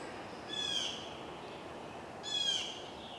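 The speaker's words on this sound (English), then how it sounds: "I can hear the blue jays talking" Blue jays give two harsh, raspy calls about two seconds apart, faint and fairly distant over a quiet outdoor morning background with oak leaves just opening in spring.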